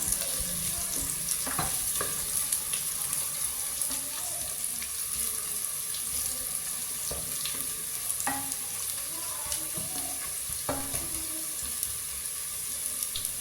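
Spices are stirred into a frying onion mixture in a cooker pot for Arabian madhooth, a constant sizzle carrying scattered scraping clicks of the spoon against the metal.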